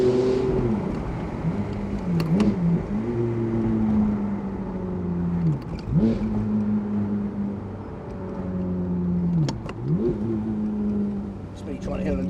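Ferrari F430 Spider with a manual gearbox, driven with its exhaust valves fully open: a loud engine note rising and falling through revs and gear changes, with someone talking over it.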